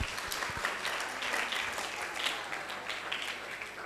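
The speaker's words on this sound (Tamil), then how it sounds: "அதுக்காக உங்களுக்கே நீங்கள் ஒரு பெரிய கைத்தட்டல் கொடுத்துக்கோங்க." Applause at a children's Christmas program, an audience clapping steadily together, moderately distant and somewhat quiet, lasting a few seconds with no one talking over it.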